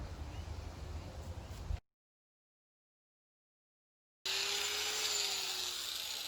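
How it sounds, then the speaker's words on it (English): An angle grinder cuts a hard tool-steel saw blade into a knife template, making loud, harsh, steady grinding in two bursts separated by a few seconds of silence. "I'm not leaving the angle grinder in one place very long."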